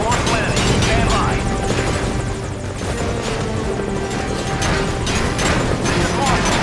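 A helicopter in Metal Gear Solid V: Ground Zeroes drones loudly and continuously, its rotor wash a dense, throbbing roar with mechanical clatter and occasional impacts, close and filling the scene.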